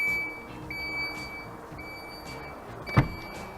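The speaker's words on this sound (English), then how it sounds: "When you load the boot, it makes this annoying bonging sound." A Citroen C5 X gives a faint, steady electronic warning tone while its boot is being loaded, with light handling noise and one brief knock near the end.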